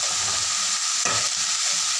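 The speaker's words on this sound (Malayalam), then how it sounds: "നന്നായിട്ടൊന്ന് ഇളക്കി കൊടുക്കണം." Food being stirred in a hot pan after chili powder is added, a steady close sizzle of frying with scraping stir strokes and one sharper scrape midway, no voices.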